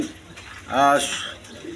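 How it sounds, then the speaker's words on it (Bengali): A breeding pigeon from a pair kept for eggs and chicks gives a single short, soft coo close by, set against quiet background noise. "ডিম বাচ্চা করানো কবুতর"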